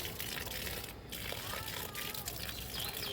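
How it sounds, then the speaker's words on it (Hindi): Water splashes and sloshes steadily as it is poured onto plants outdoors on a cloudy, humid day in Uttarakhand, a continuous moderate wash, with children's voices audible in the background. "तो दोस्तों पानी डालने लगी हूँ"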